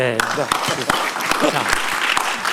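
An audience claps steadily, a dense patter of applause that carries on throughout while a voice speaks over it.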